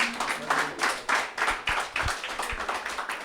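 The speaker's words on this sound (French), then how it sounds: "Là, vous pouvez applaudir." Scattered audience clapping at a church youth camp, a sparse, uneven run of individual hand claps, fairly close and moderately quiet, with no talking over it.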